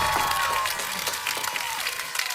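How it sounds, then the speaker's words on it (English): Applause from a small group, a brief burst of clapping and light crowd noise that fades out over a couple of seconds. "clap it up for Timbo, man."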